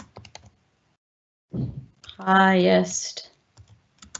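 Short bursts of light key clicks from typing on a computer keyboard come before and after a brief spoken word, close and fairly quiet.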